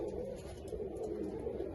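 Old desi pigeons coo in a low, continuous murmur, close by and steady throughout the short stretch, with no voices over them.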